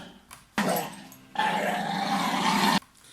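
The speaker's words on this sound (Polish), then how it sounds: "to jest filmik, gdzie pokazane jest głównie e, warczenie" A dog growls in a funny pet clip, with two bursts of rough, sustained snarling close by, the second longer and louder, separated by a short lull.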